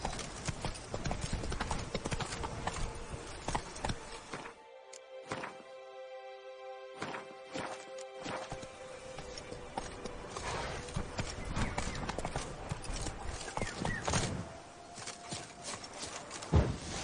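Hooves of the horse Roach clip-clop in a video game, a steady walking rhythm of close, hollow thuds. A brief neigh and a low voice come through in a quieter middle stretch.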